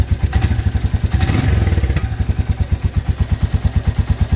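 A Royal Enfield Meteor 350 bobber single-cylinder engine idles close by with a loud, steady thumping beat, swelling briefly as it is revved and then settling back into an even, rhythmic putter. No speech.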